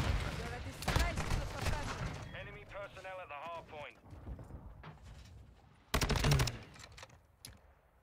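Akimbo magnum pistols fire in Modern Warfare 2 gameplay as dense bursts of loud, sharp gunshots, with a heavier cluster of shots later, separated by quieter stretches of game noise.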